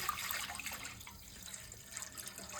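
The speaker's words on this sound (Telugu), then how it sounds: "మనం తయారు చేసిన ఏబీసీ జ్యూస్ అయితే కళాయిలో పోసుకోవాలి." ABC juice poured into a pan, giving a continuous soft splashing and trickling of liquid, close and fairly quiet, with no voices.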